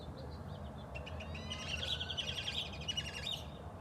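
Birds chirp and tweet in a steady, fairly close chorus of high calls as pigeons arrive at finch feed at a bird refuge, over a low background rumble, with no talking.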